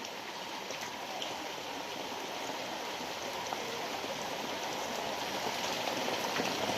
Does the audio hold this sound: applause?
no